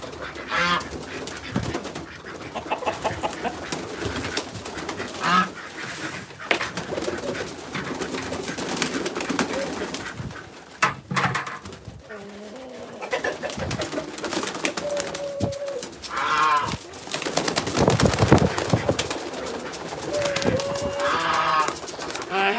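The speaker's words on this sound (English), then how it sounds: "And of course the pigeons flying all above me." Pigeons coo steadily close by while wings flutter and flap overhead, with a busy, continuous bed of bird noise.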